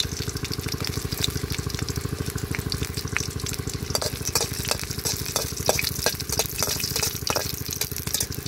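Dried red chilies fry in hot oil with a dense, steady crackle, and sharp stirring clicks join in toward the end.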